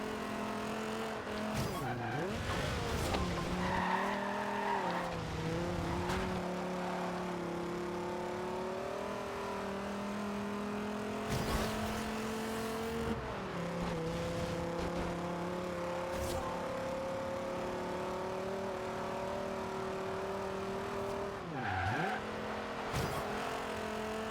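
A car races fast through a small city in the Forza Horizon 2 video game, its engine revving and shifting with tire squeals and skids, loud and continuous, with a player talking over it.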